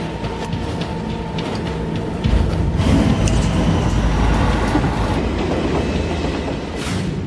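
Rapid train 5418M speeding over the limit as it nears Itami station, a continuous close rumble of wheels and carriages with clickety-clack rhythm that grows heavier partway through and stays loud to the end.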